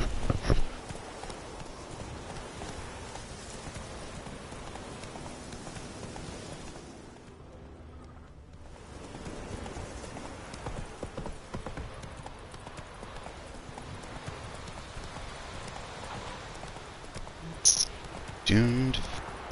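Horse hooves clip-clop steadily through most of the stretch in The Witcher 3, a continuous walking or trotting rhythm with a short quieter lull partway and a couple of louder bursts near the end; a voice speaks occasionally.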